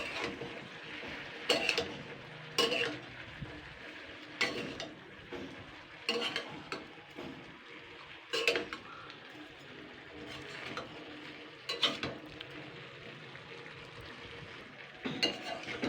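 Salt, sugar and turmeric powder being stirred in a pan for a pumpkin and Gobindobhog rice vegetarian dish, with intermittent scraping strokes and soft clatter over a faint background sizzle.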